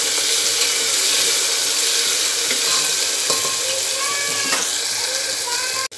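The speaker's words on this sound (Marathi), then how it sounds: "टमाटा पण छान परतून घ्यायचा आहे आपल्याला" Tomato sautéing in hot oil in a pan for masale bhat, a loud continuous sizzle and crackle close up, with a few light stirring clicks.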